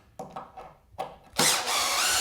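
Wooden basement wall framing is screwed together, with a few light taps and knocks followed by a power drill whirring steadily as it drives a screw into the lumber, loud and close.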